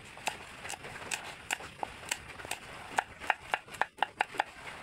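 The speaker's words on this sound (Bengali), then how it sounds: "এখন আমি এখানে জালের জন্য কিছু কাঁচামরিচ কেটে নেব" Green chilies are chopped with a knife on a board in a quick, irregular series of close, crisp taps, quiet to moderate in level. The taps get more clustered toward the end, with no talking.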